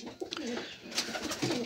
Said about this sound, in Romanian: dacă nu pleacă la Dani, porumbelul ăla nu părăsea voliera, deoarece nu e un porumbel să părăsească voliera așa una cu două